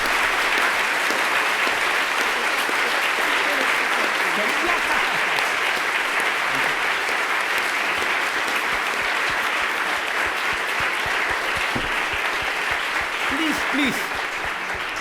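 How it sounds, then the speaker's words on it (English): An audience claps steadily after a lecture, a dense, even wash of applause that holds strong for the full fifteen seconds. "don't applaud so much, spare your energy"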